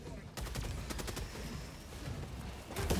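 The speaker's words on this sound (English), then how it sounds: "Heavy machine gun" A heavy machine gun in Helldivers 2 fires a sustained, rapid burst of loud, close shots that blur into a dense roar, stops briefly, then starts again. A voice can be heard faintly behind it.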